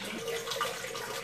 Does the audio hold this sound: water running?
yes